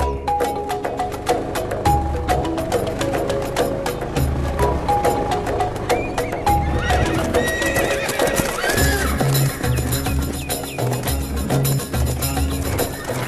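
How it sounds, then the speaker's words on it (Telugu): Several horses whinny and neigh repeatedly over steady clip-clopping hooves in a busy film scene with background music, loud and close throughout. "ఇన్ని గుర్రాలు?"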